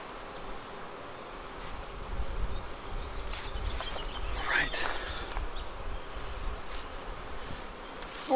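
A honeybee colony buzzes steadily at a small nucleus hive being filled with honey frames, a dense, continuous drone close to the ear with occasional brief swells.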